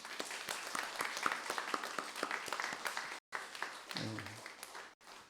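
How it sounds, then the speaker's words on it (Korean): A church congregation claps steadily for several seconds during a Sunday worship service, welcoming newcomers, the applause dense and continuous before briefly cutting out, with a voice murmuring near the end. "우리 박수로 한번 환영하겠습니다"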